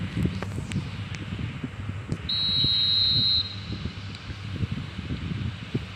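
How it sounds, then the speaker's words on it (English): Referee whistle starting a match in a football video game: a single sustained whistle blast of about a second, heard over a steady stadium crowd murmur with no speech. "There's the whistle, and here we go."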